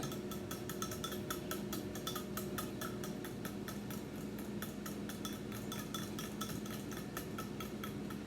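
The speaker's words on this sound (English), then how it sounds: "Let's whisk this up." Rapid whisking of buttermilk in a bowl meant for dipping onions, a steady run of quick metallic ticks and light clinks against the bowl that continues unbroken at close range with no talking.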